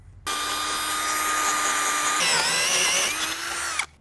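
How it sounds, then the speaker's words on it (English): A power drill whines steadily at close range, then its pitch dips and wavers as it bites into a metal spot weld on a Ford Bronco bracket before cutting off. "So make sure to drill out that top spot weld."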